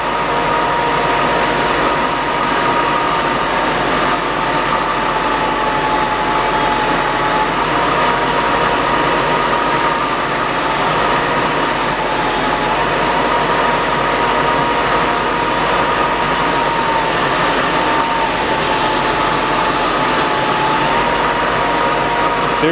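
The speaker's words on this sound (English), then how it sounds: "Put the sander on." Portable benchtop sander running together with a dust collector for sanding a shoe sole, a loud, continuous motor drone and airflow roar, with brief higher whines that come and go as the work presses against it.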